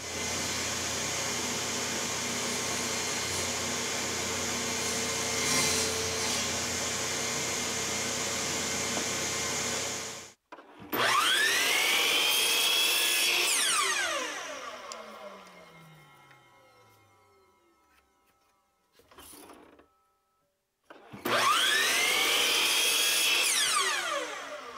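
A power tool cuts openings into a wooden part for a small aluminum and wood project box, running with a loud steady whine, then stopping, spinning down and restarting in bursts.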